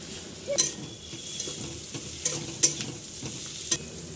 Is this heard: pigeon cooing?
no